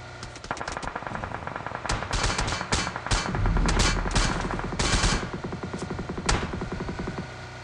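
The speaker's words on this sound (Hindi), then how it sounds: "दो बंदे मिलके फायर कर रहे हैं लेकिन एक भी बुलेट कनेक्ट नहीं हुआ" Two players fire together in PUBG Mobile, producing dense, continuous automatic gunfire with rapid cracking bursts that overlap for the whole stretch, loud and close with no pauses.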